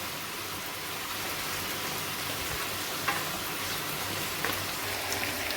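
Chicken frying in masala in a pan, a steady dense sizzle with faint crackles and occasional stirring clicks, no talking.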